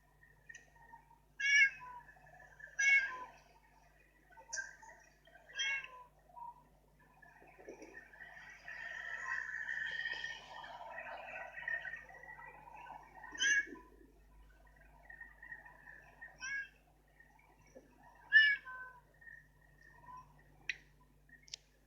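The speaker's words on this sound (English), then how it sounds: "Tell me if it's just me, but that meow" A cat gives a series of loud, strident, yelling meows, several separate calls and a longer drawn-out wail in the middle, heard close and alone with no talking.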